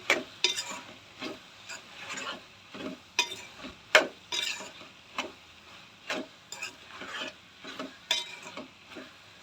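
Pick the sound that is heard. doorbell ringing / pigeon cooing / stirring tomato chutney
stirring tomato chutney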